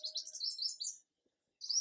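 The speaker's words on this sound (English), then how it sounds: "The chirping got so much more louder." Several small birds chirp and tweet in quick, high, overlapping phrases, pause for half a second, then start again. They sound fairly close, with no other noise.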